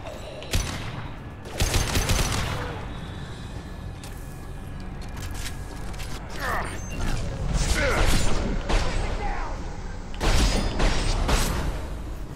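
Gunfire in the video game Mass Effect 2: loud bursts of shots and mechanical clanks, dense clusters near the start and again toward the end, with quieter stretches between.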